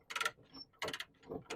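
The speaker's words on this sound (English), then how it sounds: "Undoing the ratchet, it's going to have to reverse the knob here." A ratchet strap mechanism on a trailer being released after loading a Bobcat, giving three loud bursts of rapid clicking ratchet and pawl action with quieter mechanical clunks between them.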